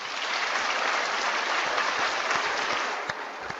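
Audience applause following a speech at a school reading program event: a dense, even wash of clapping from a group, steady throughout and easing off slightly near the end.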